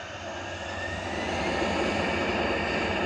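A Lufthansa airliner departs Manchester Airport for Munich, its jet engines roaring loud and close in a steady, building wash of sound with no talk over it.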